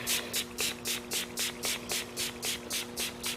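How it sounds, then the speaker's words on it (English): Aerosol K&N refresher sprayed onto a K&N cabin air filter in a steady run of about a dozen short, even bursts, each a close hissing puff with brief gaps between, under a faint constant hum. "just spray it right on there"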